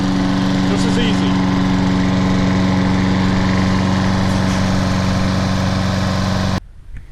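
A John Deere JS35 walk-behind lawn mower engine runs steadily after a rope start, a loud close droning hum that holds evenly before cutting off abruptly near the end.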